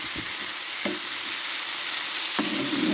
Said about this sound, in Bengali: তেল গরম হয়ে গেছে আমি হালকাভাবে চিংড়ি মাছটাকে ভাজব